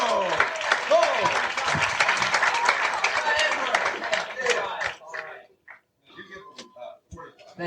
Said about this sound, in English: Let's have a nice big round of applause.